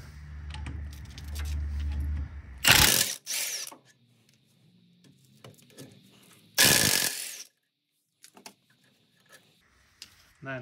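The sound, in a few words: ratchet removing 17 mm brake caliper bolts on GX470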